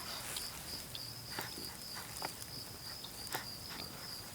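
A cricket chirps outdoors in a leafy yard among plants, repeating high thin trills that run steadily through the quiet, with faint rustling and soft taps in the background.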